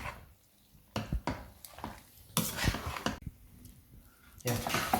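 Strained pasta is tossed and mixed in a pan in a few bursts of scraping, squelching and clinking, with quieter pauses between, and a voice talks at times.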